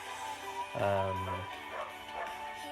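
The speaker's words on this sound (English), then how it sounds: "my dog is going crazy again" A dog gives one short bark-like yelp and a few fainter yips, moderately close in an indoor room with a low background hum.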